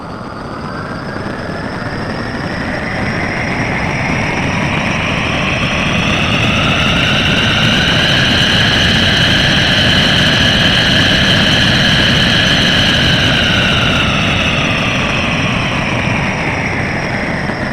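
A simulated jet engine roars steadily as its power level sweeps up and back down, with a high whine that climbs and then falls, loud and continuous with no talking.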